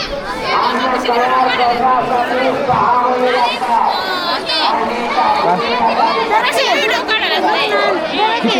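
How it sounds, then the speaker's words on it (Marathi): A dense crowd chatters at a village fair's communal feast, many overlapping voices forming a loud, continuous hubbub close around the listener. "किती गर्दी आहे आज रोजच्या पेक्षा जास्त गर्दी आहे."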